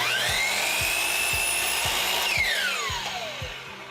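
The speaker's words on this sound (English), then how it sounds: "I'm going to take this piece to the chop saw, cut it 5 inches." A chop saw slices through a small wood piece, its steady whining motor drone sliding in pitch as the blade bites and then winds down, with regular rhythmic thumps underneath, close and loud with no talk.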